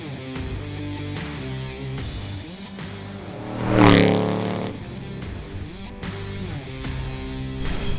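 A supercharged Chevrolet SSR making about 490 horsepower at the rear wheels drones steadily while driving, a low, loud engine hum with a brief rising whoosh midway, no voices.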